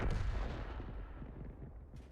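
A single heavy tank-gun blast from an M44 in a team battle video game, a loud booming report that rolls off into a fading rumble with no voices over it.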